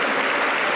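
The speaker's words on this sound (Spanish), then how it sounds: "fuerte las palmas para el Señor" A church congregation claps together during a worship service, a dense steady wash of applause filling the whole brief moment with no pauses.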